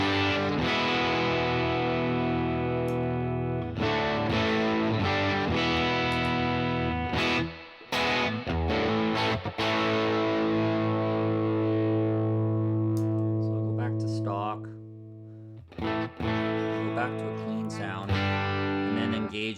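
Electric guitar played through a UAFX Dream '65 amp pedal with the drive turned up, giving loud, thick, distorted sustained chords and riffs with a few short pauses between phrases.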